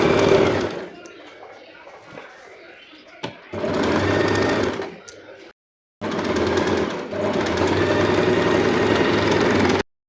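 A sewing machine stitches the back neck of a dress cut from a saree, loud rapid mechanical whirring in bursts separated by short pauses and a brief silence, with the steady chatter of the needle up close.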